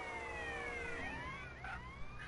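A police car siren in a video game wails with sweeping, gliding tones that bend downward and wind down, fairly loud and alone without speech.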